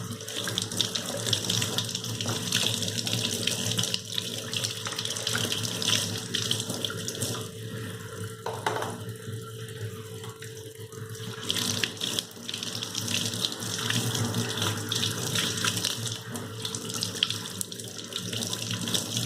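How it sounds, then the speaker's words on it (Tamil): Spray bottle parts get washed under a running tap, the water pouring in a steady, continuous splash into a sink, with no one speaking. "எல்லாத்தையுமே தண்ணியில் வந்து நல்லா வாஷ் பண்ணி கழுவி எடுத்து வச்சுக்கலாம்"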